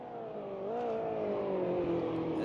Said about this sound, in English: Cuckoo's really struggling to slow down the car